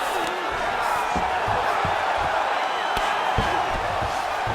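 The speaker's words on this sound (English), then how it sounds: "The crowd is absolutely eating it up." An arena crowd roars steadily during a women's bout between Maycee Barber and Amanda Ribas in EA Sports UFC 5, a continuous loud cheer with sharp thuds and slaps mixed in from the fight.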